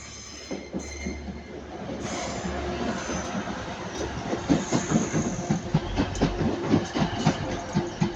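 Train passing through Ardwick station, a rising run of rhythmic clickety-clack wheel beats over a rolling rumble with faint squeal, growing louder as it goes by.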